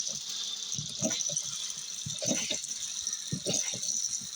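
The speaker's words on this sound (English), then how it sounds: "water comes out, you let go, water comes out" Water from a foot-pumped rainwater shower at an off-grid home gushes in steady hissing spurts, with thumping bursts recurring about once a second as the pump pedal is pressed and released.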